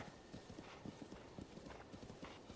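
Horse hooves clip-clop at a steady trot in Zelda: Breath of the Wild, a quick, even rhythm of soft close thuds, fairly quiet and heard on their own.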